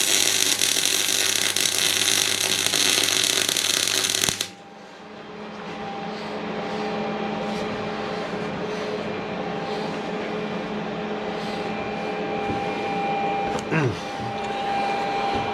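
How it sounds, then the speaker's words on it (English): Brackets being welded onto a front linkage during fabrication: a loud, steady crackling buzz for about four seconds, then it cuts off abruptly, leaving a quieter hum with faint workshop noise. "So let's crack on with that, get them welded on."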